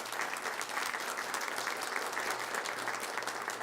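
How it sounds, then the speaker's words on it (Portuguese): A church congregation applauds after a Gospel reading at Mass, steady dense clapping filling the space throughout, with a faint low hum beneath. "aplaudir a palavra de Deus."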